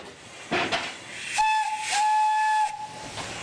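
The Prince, a small steam engine on a narrow gauge park railway at Clay-Clay-Tenay Memorial Park, hisses steam and gives a sustained whistle tone that holds for over a second and then cuts off, close and loud.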